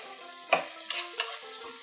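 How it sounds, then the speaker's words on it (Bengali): Two chopped onions with a little salt and sugar fry in oil in a pan, a soft steady sizzle broken by a few scraping stirs of a spatula. "বাদামি করে ভেজে নেব"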